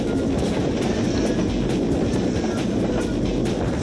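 A train in the video game Just Cause rumbles along with a loud, continuous roar and faint rhythmic clatter, steady for the whole stretch with no voices.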